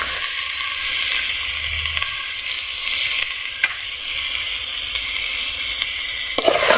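Chopped potatoes with salt and turmeric frying in a pan, a steady close sizzle throughout with a few light scrapes of a stirring utensil.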